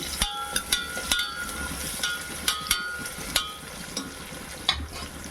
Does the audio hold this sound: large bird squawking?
no